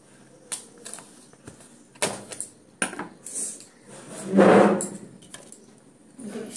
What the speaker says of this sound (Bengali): আর এই মাশরুমগুলোকে কেটে নেব